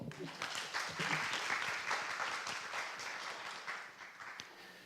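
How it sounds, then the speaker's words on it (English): Audience applause at a language festival talk, a dense steady patter of many hands clapping for a presenter, fairly loud and continuous with a brief voice mixed in, fading slightly toward the end. "Let's give a warm hand of applause for Alan Hall."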